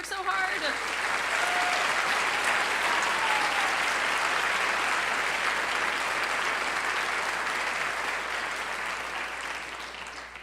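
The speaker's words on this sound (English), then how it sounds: "One more round of applause for those folks who have worked so" A middle school honors band audience gives a sustained round of applause for the teachers, dense and loud throughout, fading slightly at the end, with a brief word spoken over it.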